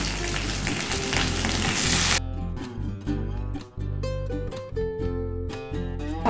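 Water spinach greens hit a pan of lightly browned fried potatoes with a loud, bright sizzle for about two seconds, after which music takes over and the frying is no longer clearly heard.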